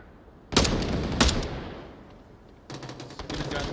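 Gunfire in the VR shooter Onward during a championship match: two sharp, loud shots in quick succession, a fading echo tail, then a rapid rattling burst of automatic fire.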